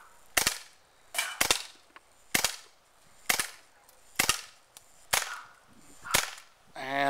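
CO2 airsoft pistols firing BBs: about eight sharp, loud cracks spaced roughly a second apart, each with a short snappy tail, close by and with no talking.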